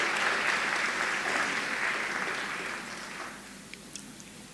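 Graduation ceremony audience giving a round of applause for Dean's List awardees as they sit, a broad steady clapping that gradually thins and fades toward the end.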